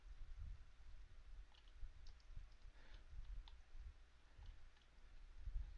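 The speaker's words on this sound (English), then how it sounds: "I click on the left mouse key to accept the length" Quiet, sparse computer mouse clicks from someone drafting a complex roof design on a computer, a few light irregular taps over faint background noise with no talking.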